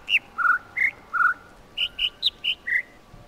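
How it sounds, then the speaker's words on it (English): Birdsong in the video game The Witness: a rapid series of about eleven clear, whistled chirps at shifting pitches, loud and close over a faint ambient background. "I think I have to listen to the bird"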